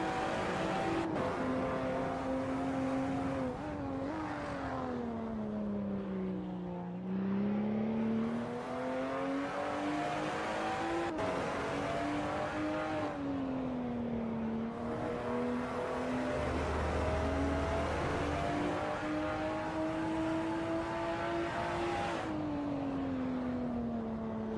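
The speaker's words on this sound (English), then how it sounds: "It looked as if he revved up a bit high there." A race car engine in a sim racing game at Brands Hatch drones steadily and loudly, its pitch rising and falling through gear changes and revs with no pauses.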